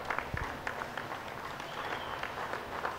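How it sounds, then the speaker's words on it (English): A crowd at a goat show breaks into applause, with steady moderate clapping that carries on for a few seconds. "please give him a big round of applause"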